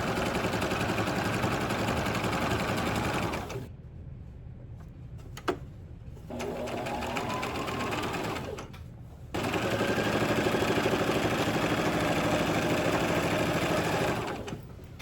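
A sewing machine joins quilt strips in long runs of fast, even stitching hum, broken by two short pauses with faint handling noises before the machine starts again more loudly.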